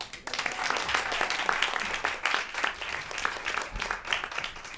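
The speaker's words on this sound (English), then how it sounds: "So give him a big round of applause." An audience at a comedy show breaks into applause: dense, close clapping that starts abruptly and carries on steadily, swelling and dipping slightly for several seconds.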